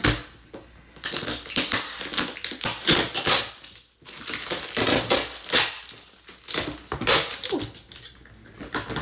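A small fabric storage bin wrapped in heavy tape is pulled open, with loud, close bursts of crackling and crinkling tape and plastic tearing in two main stretches, broken by a brief pause.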